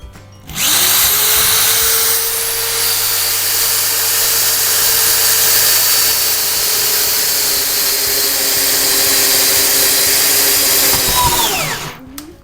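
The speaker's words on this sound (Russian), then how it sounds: "Отступаем 18 сантиметров и сверлим второе отверстие." A power drill whines steadily at close range for about eleven seconds while drilling a hole in larch wood, then spins down and stops.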